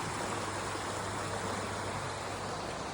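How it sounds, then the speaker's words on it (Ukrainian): A mountain river near a holiday house in the hills rushes steadily, a constant broadband wash of flowing water with no pauses, close and fairly soft. "послухати шум гірської річки"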